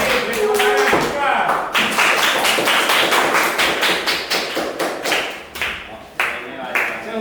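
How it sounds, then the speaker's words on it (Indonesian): A classroom full of students claps, a loud close round of rhythmic applause that swells and falls in waves, with children's voices underneath. "Kali ini beri tepuk tangan juga."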